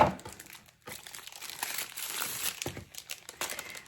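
A wrapped package of pastry dough is pulled open by hand, giving close, continuous crinkling and crumpling of the wrapper with a short pause near the start.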